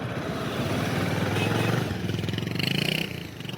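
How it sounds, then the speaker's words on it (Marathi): A nearby motorcycle engine runs steadily with a rough, throbbing idle, and the revs lift slightly toward the end. "गाडी भेटली आम्हाला मोटरसायकल"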